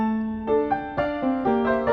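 Excerpt from Bach's Art of Fugue, fifth fugue, where the theme returns inverted in canon at one beat: sustained harmonic tones with a steady low line and a new note entering about every quarter second, clear and moderately loud with no voices.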